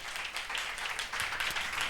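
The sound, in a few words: congregation applause during a church sermon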